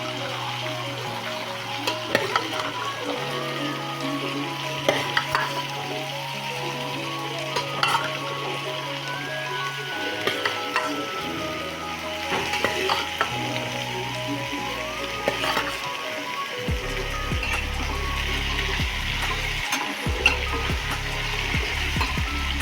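Chickpeas sizzle and fry in hot oil while a utensil stirs them, a steady crackle with repeated scraping and clinks of the spoon against the pan, close and continuous without voices.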